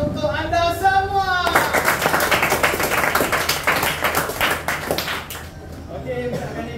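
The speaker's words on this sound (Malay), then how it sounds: "Dan juga tepukan yang paling kuat untuk anda semua." Classroom applause fills the middle stretch, a dense burst of clapping from students that rises after a spoken introduction and fades as a voice resumes at the end, with talk heard before and after.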